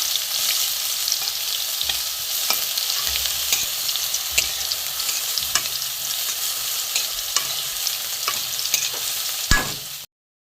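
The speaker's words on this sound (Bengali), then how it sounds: "বেগুনগুলো আমি প্রথমে ভেজে নেব।" Steady oil sizzling of eggplant frying in a pan, with occasional clicks of a spatula stirring; no voices.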